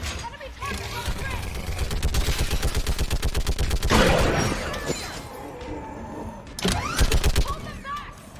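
Rapid bursts of heavy gunfire from a mounted gun in Mass Effect 3, a steady chattering stream of shots with breaks and a second burst near the end, set against battle noise and shouting voices.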